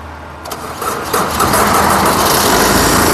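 A 2015 Tata Zest XE car engine fires on a single crank, a short starter whir quickly turning into a loud, steady idle heard up close.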